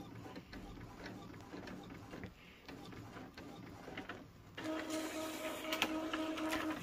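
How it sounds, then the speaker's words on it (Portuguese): An Epson L-series inkjet printer (L3110/L3210 family) prints a page with faint mechanical whirring, gear ticks and carriage clicks that grow louder and busier halfway through, heard up close in a quiet room. "está fazendo a impressão"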